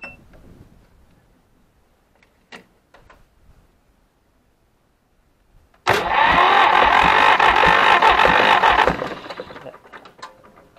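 A few faint clicks and knocks, then an Ursus C-325 tractor engine cranks and catches suddenly, running loud and rough for about three seconds before dying away.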